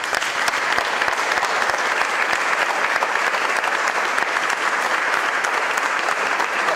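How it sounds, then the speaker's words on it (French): A warm, sustained round of applause fills a resonant hall, dense and steady, loud and reverberant for several seconds with no speech over it. "Je voudrais qu'on applaudisse chaleureusement, même si ça fait beaucoup de bruit parce que ça résonne"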